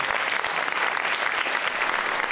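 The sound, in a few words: audience applause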